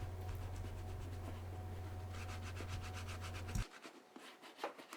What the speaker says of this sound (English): rub the applicator brush all across the leather surface of the shoes